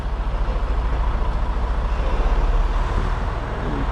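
An intermodal semi truck maneuvering to drop off a trailer, its diesel engine rumbling loud and close with a heavy, steady, pulsing low drone and no voices.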